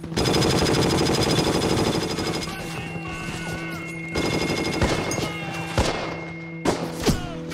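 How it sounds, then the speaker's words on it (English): Sustained machine-gun covering fire in the Hell Let Loose war video game, a dense continuous rattle of automatic bursts that later breaks into scattered louder shots and thumps, with battlefield noise throughout. "Covering fire! Let's go! Keep it moving!"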